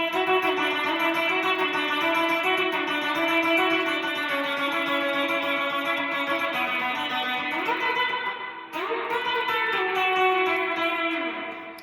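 A guitar plays a quick picked melody with rich sustained notes and an effects-laden tone, continuing steadily with a brief dip near the end.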